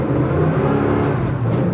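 A 1965 El Camino pulls away from a standstill, its engine roaring loud and steady at close range with a strong low rumble and no voices.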